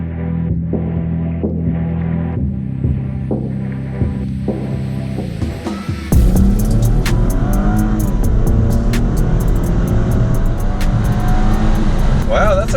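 Holden VF SV6 V6 sedan accelerating hard, a low idle throb giving way to a loud, rising engine roar with gear shifts of the automatic transmission, close and steady throughout.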